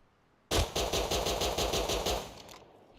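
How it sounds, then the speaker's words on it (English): The P2 gun fires a rapid automatic burst in the video game Rust, a loud sharp volley of evenly spaced shots that starts abruptly and runs for about two seconds before stopping. "We're going to compare the P2 and the Python recoil."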